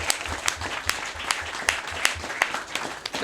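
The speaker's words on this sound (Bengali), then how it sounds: "আমরা সবার জন্য একটা তালি দিচ্ছি" Audience applause fills the hall, a dense steady clapping from a crowd that holds at even loudness throughout, with no voices over it.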